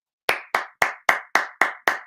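A single person claps seven times at a steady, even pace, each sharp close clap fading quickly, with no talk.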